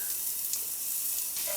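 Onions, peanuts and bacon frying in a pan, giving off a steady, close hiss of sizzling fat with faint crackles and no talking over it.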